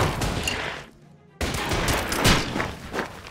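A fighter plane strafing armored vehicles in the WWII strategy game Order of Battle: dense bursts of gunfire and thumps, then a short near-silent gap, then more rattling fire and booms.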